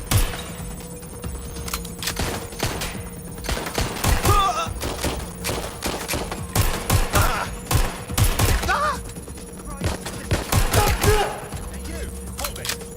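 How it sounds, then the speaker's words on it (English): Gunfire in the Watch Dogs Legion video game, sharp repeated shots and bursts in irregular clusters throughout, fairly close and loud, over a steady background hum with some voice audible. "Shots fired! I'm taking fire!"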